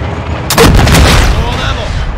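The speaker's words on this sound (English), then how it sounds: "Our mortar strike is inbound" Mortar strike explosions in the Call of Duty: MW II Ground War multiplayer match on Santa Sena, a loud booming blast with a rumbling tail, layered over battlefield noise.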